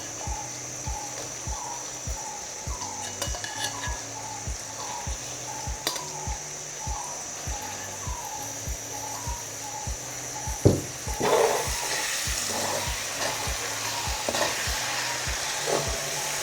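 An egg mixture fries in a pan for a Sri Lankan egg tempered dish while a spoon scrapes and taps it at a steady rhythm, over a constant sizzle, with no talk.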